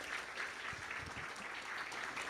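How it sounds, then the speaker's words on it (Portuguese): A church audience applauds a guest being welcomed, a steady patter of many hands clapping heard faintly at some distance, with a few low voices underneath. "Vamos recebê-lo carinhosamente com aplauso."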